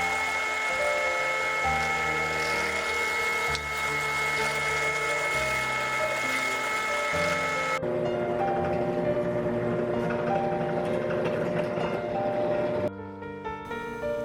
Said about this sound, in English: Drill holes for USB in plywood.